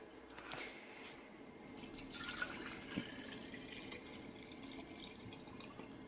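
Liquid poured from up high at a homestead, splashing and dripping into a container, a steady wet trickle with a few sharper drips, fairly quiet and close.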